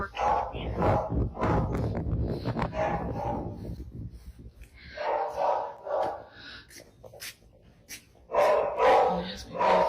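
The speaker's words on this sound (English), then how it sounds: "You can only hear her barking." A dog barks in irregular bursts, some close and loud, mixed with whimpering yips and a person talking between the barks.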